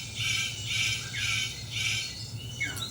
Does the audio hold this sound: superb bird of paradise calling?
yes